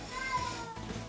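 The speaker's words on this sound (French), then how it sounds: "Je suis désolée pour le chat qui arrête pas de miauler." A house cat meowing close by, one drawn-out plaintive cry over a quiet indoor background.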